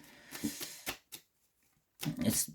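Tarot cards being shuffled by hand in two quick riffling bursts separated by a short pause, close and fairly soft, with no talking.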